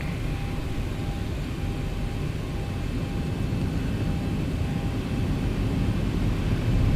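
Simulated Boeing 737-800 jet engines at takeoff thrust, Zibo 738 model in X-Plane, giving a steady, loud, broadband roar with a low rumble and faint tonal whine that swells slightly toward the end.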